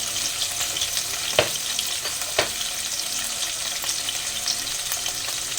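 Chili and cumin powder stirred and fried in a pan for a Bengali chhanar dalna, a steady close sizzle with a couple of sharp scrape clicks from the spoon against the pan.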